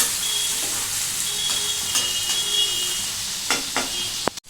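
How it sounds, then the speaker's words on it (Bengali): Onion and hilsa fish fry in oil in a pan over low gas, giving a steady, close sizzle with a few sharp clicks of stirring near the end. "এইটা পেঁয়াজটা এখানে এরকমভাবে ভাজা ভাজা হবে"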